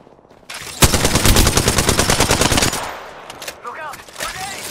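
Rapid automatic gunfire from the Apex Legends video game erupts after a brief lead-in and hammers on loudly for about two seconds. It then gives way to quieter scattered game sounds.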